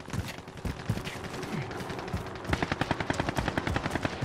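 Rapid automatic gunfire from a shooter video game rattles in dense bursts, turning into a sharp, steady stream of shots in the second half.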